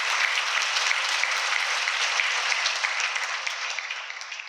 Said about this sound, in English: Please give a round of applause to all the volunteers and support users who are here today.